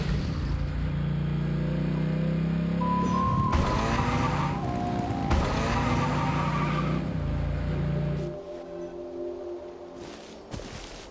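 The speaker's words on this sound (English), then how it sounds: "Rev the engines!" Loud video game car engine roar with rising revs and shifting pitch, sustained and close, then dropping off near the end.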